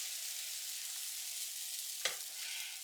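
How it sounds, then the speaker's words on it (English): Waffle batter sizzling in a waffle iron, giving a soft, steady frying hiss, with one brief sharp click partway through. "Oh, I can hear a lovely sizzle."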